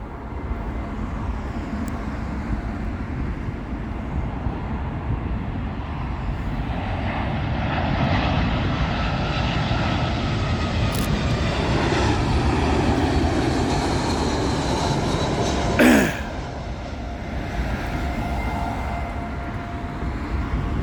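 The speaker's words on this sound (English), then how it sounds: "another British Airways A320, this time coming in from Barcelona" A British Airways Airbus A320 in from Barcelona sweeps overhead on approach to Heathrow runway 27L, a broad jet rumble rising from far off to a loud close roar, with a brief sharp knock near the end before the noise recedes.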